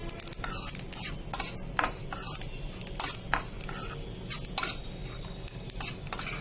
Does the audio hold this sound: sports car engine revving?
no